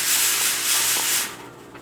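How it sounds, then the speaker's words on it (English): A pressure canner processing wild game lets off a burst of hissing steam, a loud broad rushing hiss that fades after about a second. "there's where I said it kind of lets off that steam"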